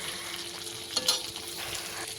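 Fish frying in a pan gives off a steady, close sizzle with a brief clatter of stirring partway through, with no voices.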